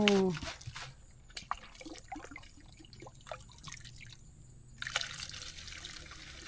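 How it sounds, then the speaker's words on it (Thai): Water scooped from a clean, covered village spring, with splashing and dripping pours over faint background noise and occasional nearby talk. "มาตักน้ำไปเลย"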